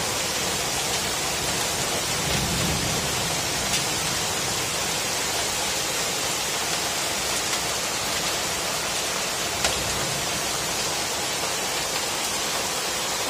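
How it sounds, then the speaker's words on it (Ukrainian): Heavy storm rain mixed with small hail in Kyiv: a dense, steady hiss of downpour with faint scattered ticks, continuous and close, no voices. "Да, уже есть маленький град."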